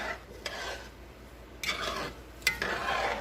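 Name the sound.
stirring white rice in a cooking pot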